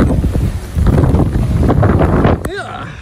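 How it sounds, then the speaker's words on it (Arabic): Strong storm wind in Oujda roars loudly and steadily against the microphone, buffeting and rumbling throughout, with a voice shouting over it near the end. "والله يدير الريح"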